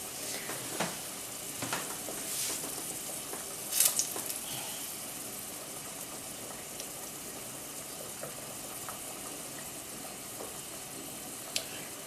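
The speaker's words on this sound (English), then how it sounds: "I'm frying the little pepper too" Quiet, steady sizzling of a small pepper frying in oil, with faint pops and stirring clicks throughout.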